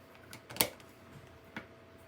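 A few sharp plastic clicks as binder rings close, one loud snap followed by a softer click a second later, close by in a quiet room.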